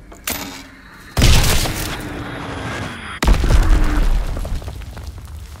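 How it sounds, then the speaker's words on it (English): Bombs explode in the World War II shooter game Call of Duty: WWII, with two heavy booming blasts a couple of seconds apart, each followed by rumbling debris and crackle, loud and close, preceded by a sharp pop. "Enemy bomb incoming! Get to cover!"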